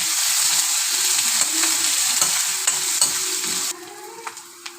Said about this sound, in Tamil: அடுத்து வெங்காயம் போட்டுக்கலாம். நல்லா வதக்கிக்கலாம்.